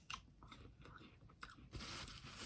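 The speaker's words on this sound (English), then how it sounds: "It's crunchy." Close, crisp crunching bites into a firm, slightly bruised red Anjou pear, a few sharp snaps followed by wet chewing, with no talking.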